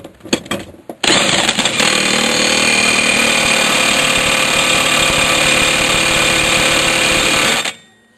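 A Toro lawn mower engine, blade cracked, cranks over with a few sputtering bursts, then catches and runs at a loud, steady high idle for about six seconds before cutting off abruptly.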